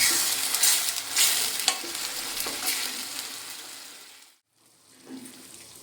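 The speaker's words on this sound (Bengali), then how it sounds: "আমি নেড়ে চেড়ে খুব ভালো করে সময় নিয়ে কষিয়ে নিচ্ছি" Spices for a dry fish curry are stirred and fried in a pan, a steady sizzle with scraping strokes of a spoon that fades into a brief silence before a soft clatter resumes.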